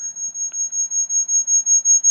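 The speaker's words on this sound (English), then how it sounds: "I hope that beeping is not showing up" A rapid electronic beeping repeats steadily at a high, thin pitch, about five beeps per second, loud and continuous with no voices.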